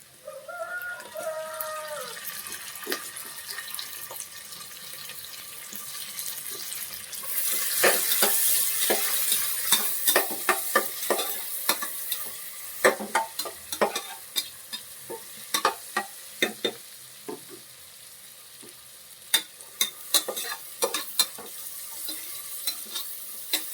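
Onion and tomato stirred and frying in a pan for egg biryani, a steady sizzle with a burst of hissing around the middle, then repeated sharp scraping clicks of a spoon against the pan, close and alone.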